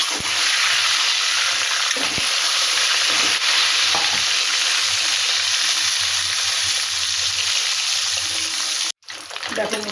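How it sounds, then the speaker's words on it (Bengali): Eggs fry in a pan of hot oil for a cauliflower egg curry, giving a continuous close sizzle with occasional stirring scrapes that cut out briefly near the end. "এর মধ্যে আমি ডিমগুলো ভেজে নেব।"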